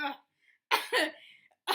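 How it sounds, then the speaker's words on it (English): A person coughs in a few sharp bursts with short pauses between them, close to the listener, with a bit of breathy vocal sound at the start. "Let me get my cough out on this one."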